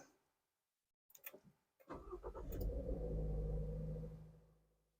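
A 2023 Toyota GR86 is restarted: after some clicks, the starter cranks briefly, then the engine catches and settles into a close, steady idle rumble that fades near the end.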